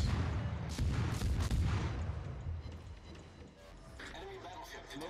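Naval guns firing in the video game World of Warships, several deep booming salvos in the first two seconds, then quieter battle noise, with a voice talking over it.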